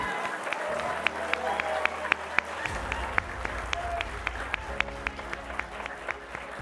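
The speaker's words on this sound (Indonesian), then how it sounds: "mari berikan tepuk tangan yang sekeras-kerasnya, Bapak Anies Baswedan." Crowd at a political event in Jakarta applauds steadily for the arriving governor, with dense clapping, sharp individual claps standing out, and a low hum of background noise throughout.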